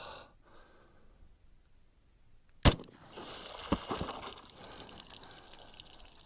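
A single sharp gunshot from a 10mm handgun with a 6-inch barrel firing a 200-grain HST bullet into water jugs, loud and close. Splashing, sloshing water and a few smaller knocks follow it.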